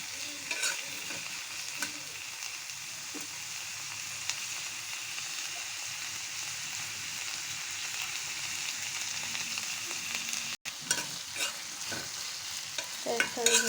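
Onion and garlic fry in mustard oil for a raw mango pickle, producing a long steady sizzle with intermittent scraping and clinking of a stirring spoon, briefly cut out once, then busier stirring near the end.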